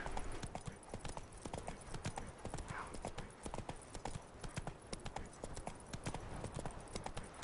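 Galloping hoofbeats from the horse Roach in The Witcher video game patter in a fast, continuous clip-clop over a steady background of game ambience, with no pauses.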